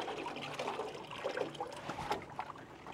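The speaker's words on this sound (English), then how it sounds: "And then I use something to scoop the water." Warm water scooped and poured over a puppy during a bath at an animal shelter, soft faint splashes and trickles in irregular bursts, close by and quiet, with no talking.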